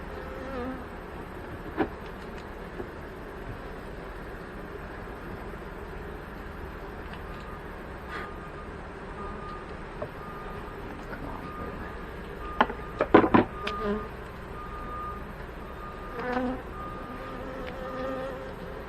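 Honey bees humming around an open hive during an inspection for new laying queens, a steady close drone throughout with a few brief clicks and knocks of handling partway through.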